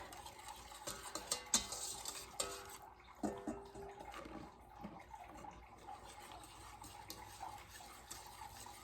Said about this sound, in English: we are now going to stir in 4 cups of powdered sugar